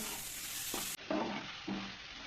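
Dried loitta fish is stirred as it fries in oil, a quiet steady sizzle punctuated by a few scraping stirring strokes.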